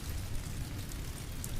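Steady rain falls throughout, a dense low rumble and hiss with no individual drops standing out, setting the mood for a dark fantasy sleep story with rain and thunder.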